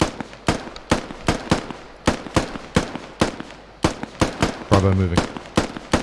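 Squad live-fire drill with sharp, close gunshots fired in a steady rapid sequence, roughly every quarter to half second, while a voice calls out movement commands partway through.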